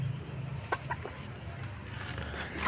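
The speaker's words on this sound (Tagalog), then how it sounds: "Native chicken yan." Native chicken clucking, a few short soft clucks early on over steady outdoor background noise, mid-distance and fairly faint.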